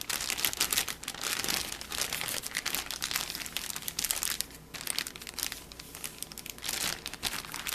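Continuous crinkling of a plastic zip bag holding goose breast jerky marinade, handled and squeezed close up, with steady rustling bursts throughout.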